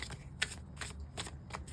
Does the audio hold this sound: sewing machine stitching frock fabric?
no